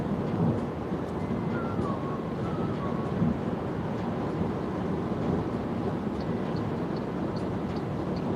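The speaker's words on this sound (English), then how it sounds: "The wind is strong" Strong crosswind buffeting an MG 5 electric station wagon on the road, a steady broadband roar heard from inside the car, loud and unbroken with no speech.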